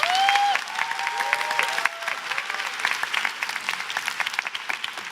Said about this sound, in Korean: 저는 이 박수도 되게 감사하면서도 부끄럽거든요